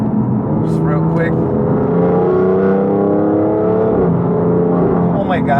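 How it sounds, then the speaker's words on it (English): A 575 hp BMW F80 M3 Competition accelerating hard in third gear, engine note climbing steadily in a loud, sustained rising drone from inside the cabin, with speech breaking in near the start and end. "So I'm gonna give it a little third gear pull, just real quick."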